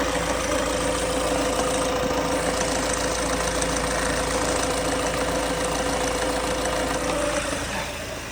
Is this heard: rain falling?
no